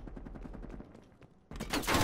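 Gunfire in Call of Duty: Black Ops Cold War sounds as a rapid rattle of automatic shots, then a short lull and a louder, heavier burst of blasts up close.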